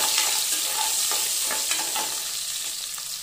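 Small shallots sauté with popping mustard seeds and cumin, giving a bright, steady sizzle with scattered crackles and light stirring. The sound is close and stays fairly loud.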